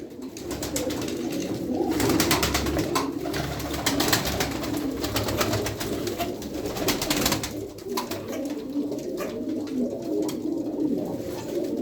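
Pigeons cooing in a loft or coop, several birds overlapping in a continuous soft, murmuring chorus of repeated coos, fairly close and steady throughout.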